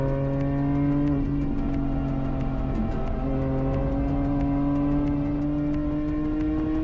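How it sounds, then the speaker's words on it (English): Steady, loud engine drone from a BMW 128i on a race track, with the front tires squealing continuously through a corner as the car is pushed hard; no talking. "You can tell when I turn the steering wheel a little harder that the front end just kind of starts to squeal"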